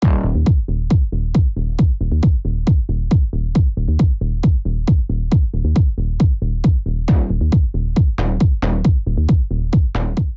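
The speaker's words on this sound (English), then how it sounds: "When you combine all these bass patterns together," Dense layered tech house synth bass groove with steady pumping plucks and a driving rhythmic pulse, loud and continuous throughout.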